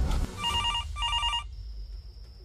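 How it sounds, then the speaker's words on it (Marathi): An old-style telephone bell rings in two quick trilling bursts indoors, fairly clear over a low room hum, then falls silent leaving only a faint steady tone. "अरे उचला रे कोणीतरी तो फोन"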